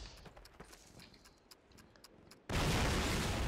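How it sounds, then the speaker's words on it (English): An explosion in Call of Duty, Airborne on D-day, bursts in abruptly after quieter scattered gunfire and clatter, then roars loudly with a sustained rumble to the end. "stay away from this fucking explosion"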